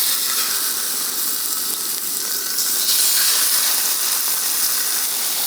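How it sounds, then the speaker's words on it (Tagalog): Chicken pieces for adobo frying in a small amount of leftover oil in a pan, giving a steady, close hissing sizzle that rises slightly about halfway through, with no voices. "unti-unti na nating iprito yung chicken dito ngayon"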